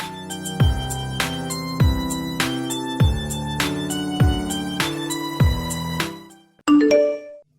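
A bright chiming notification bell sound effect rings out in a steady repeating pattern, each note struck and decaying, ending with a final separate chime.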